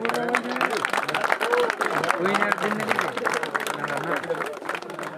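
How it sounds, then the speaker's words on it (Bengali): A crowd claps steadily at a cricket league prize ceremony as a runners-up trophy is handed over, with voices calling and talking over the continuous applause. "এবার জুড়ে হাততালি হয়ে যাক।"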